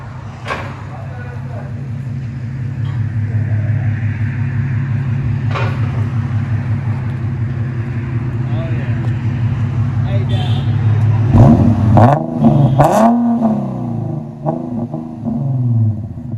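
A 2014 Infiniti Q50 3.7L with dual exhaust and muffler delete idles with a deep, steady rumble up close, then gives a few sharp revs near the end.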